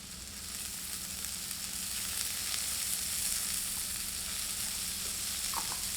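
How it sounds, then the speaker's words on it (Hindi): Chopped onions fry in a small amount of oil over medium heat, giving a steady, loud sizzle that builds slightly and holds, with a few light stirring scrapes near the end and no talking. "अब प्याज को थोड़े से ऑयल में फ्राई करते हैं।"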